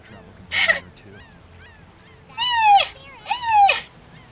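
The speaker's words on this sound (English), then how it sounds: "You never heard this seagull squawk so much." Seagull in the video game Tales of Vesperia squawking loudly and close, three harsh descending honk-like calls spaced over about four seconds against a faint background hum.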